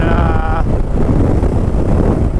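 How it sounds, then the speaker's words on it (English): A strong headwind on open outback plains in Australia buffets the microphone with a continuous loud, rough roar throughout, close and unbroken, while a brief tonal hum fades out near the start. "It's fierce headwind"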